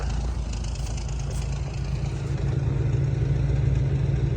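A vehicle engine and exhaust idle steadily after a cold start on an icy day, a low, even mechanical rumble with light clatter running close and uninterrupted throughout.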